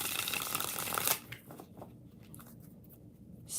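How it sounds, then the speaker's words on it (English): Tarot cards shuffled by hand, a dense papery riffle that ends abruptly, followed by a few faint soft card taps and slides. "So, 6 shuffles."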